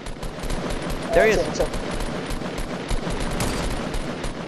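Continuous rapid gunfire in the video game Fortnite, a dense crackle of shots running the whole time under a brief spoken remark.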